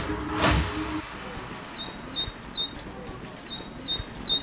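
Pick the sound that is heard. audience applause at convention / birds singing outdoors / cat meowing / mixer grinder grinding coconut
birds singing outdoors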